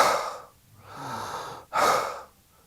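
Deliberate breaths drawn in through the mouth and nose, two or three close, airy inhalations and exhalations separated by brief pauses, with no talking.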